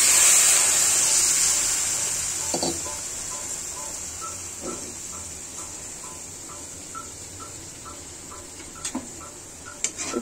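Water splashes into a hot pan used for frying rohu fish, giving a bright, loud hiss that fades over a couple of seconds and leaves a quiet pan with a few small ticks and pops.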